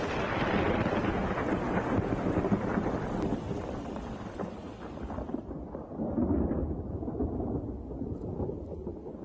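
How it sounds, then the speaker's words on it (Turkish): Thunder from an Okavango thunderstorm rolls in a deep, continuous rumble that swells and fades, with a dull wash of rain and wind behind it. "Her gün gök gürültülü fırtınalar yaşanır."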